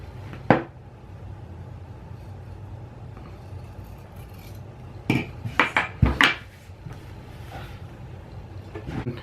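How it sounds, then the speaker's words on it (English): Scissors trim the edges of sewn fabric: one crisp snip, a pause with quiet room tone, then a quick cluster of sharp, close snips before it settles again. "So now I'm going to trim my edges."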